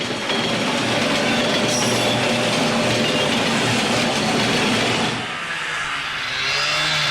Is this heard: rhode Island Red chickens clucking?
no